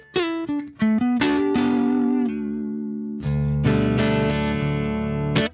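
Electric guitar played dry through an amp, a run of single notes and short chords, then sustained ringing chords with no reverb tail, loud and close.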